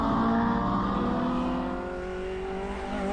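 An under-2-litre Improved Production race car blasts away on a NSW circuit, its engine howling loud and close as it accelerates hard through the gears, the note holding steady then easing slightly as it pulls away.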